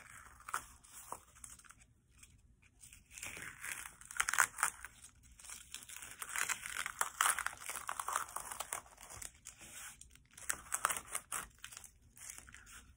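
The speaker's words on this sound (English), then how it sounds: "Carefully take the tape off" Tape peeled slowly off a painted craft project of a bridge over a pond, producing close, crackly tearing and crinkling bursts that come in uneven stretches with short quiet gaps.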